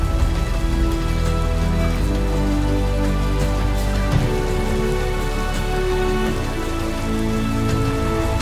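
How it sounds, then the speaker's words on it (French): Rain falls steadily in the native forest of the Azores, a loud, close, dense patter of drops striking leaves and surfaces that continues without break, with no voices. "il se remet encore une fois à pleuvoir"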